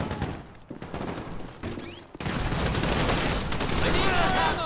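Dense machine gun fire in GTA with the LSPDFR police mod, a sparse opening that breaks around the midpoint into a loud, sustained rattle of rapid shots, with voices faintly mixed underneath.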